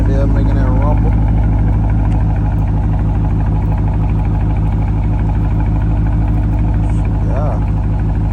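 Deep, steady exhaust rumble from a 2021 Dodge Charger R/T with the mid muffler deleted, a low idling drone that holds loud and constant throughout, with faint background sounds on top.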